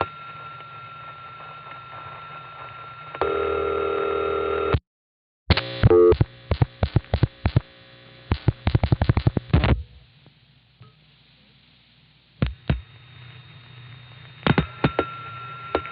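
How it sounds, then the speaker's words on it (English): A 1974 telephone call into a crossbar 5 exchange in the 914 area of New York, with line hum, a tone, a burst of rapid clicks and switching pulses, then quieter hum with scattered clicks as the trunk approaches feedback. "The next 2 calls are to a crossbar 5 with city ring. On the first, the trunk is about to go into feedback."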